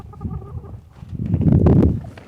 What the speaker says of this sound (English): Found a chicken in the barn while I was in there.